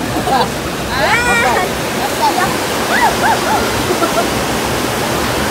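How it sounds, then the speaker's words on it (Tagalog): Sabsaban Falls in Palawan pours down in a loud, steady rush of water with constant churning, while voices call out and chatter over the roar throughout. "Lakas ng agos niyan. Lakas!"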